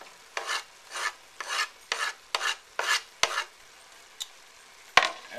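A spice mix of fresh basil, cayenne pepper, cumin, celery seed and thyme is stirred into a sizzling pan: about seven regular rasping stir strokes, then a couple of sharp utensil taps, close and alone.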